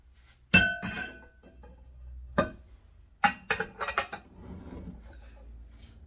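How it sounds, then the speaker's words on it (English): Spices and seasonings added to a pot of homemade ketchup, heard as a few sharp clinks of glass and metal, a spoon tapping and containers knocking, close and fairly clear with faint background noise. "here's all my spices and seasonings going in"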